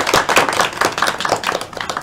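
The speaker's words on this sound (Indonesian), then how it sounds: "kita beri aplaus dulu untuk Sandi dan Lydia ya" Applause for two students during a geography microteaching class, a dense run of group clapping, close and fairly loud, steady for a couple of seconds with no talk.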